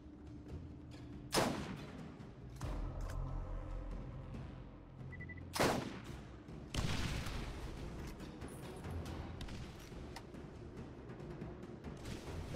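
Gunfire in Borderlands comes as a few sharp, loud blasts spaced several seconds apart, between quieter rumbling stretches of game noise, with no voice in the clip.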